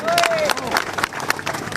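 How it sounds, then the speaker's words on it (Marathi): Audience at a political rally for a former chief minister claps in bursts of loud, uneven applause, with a voice carrying over the clapping. "जोरात टाळ्या मार आहे की नाही"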